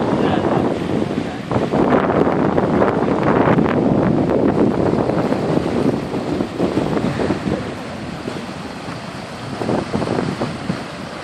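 Rough sea waves surge and break along the Mukalla coast while strong wind buffets the microphone, a loud, continuous roar with no letup.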